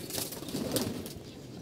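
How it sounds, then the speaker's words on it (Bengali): Pigeons taking flight from a loft, a brief flurry of flapping wings with a soft coo, close and fairly loud. "এভাবে করে কবুতর উড়াবেন।"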